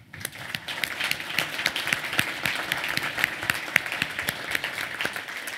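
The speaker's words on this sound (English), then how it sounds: "please join me, give them a big applause" A crowd applauds with steady, dense clapping for a few seconds, fairly distant, without voices.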